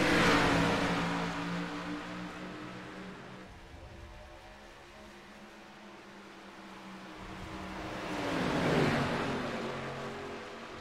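Race car engines roar around Nashville Superspeedway in iRacing, a loud droning pack that swells near the start, thins out, then builds again as cars sweep past with a falling pitch.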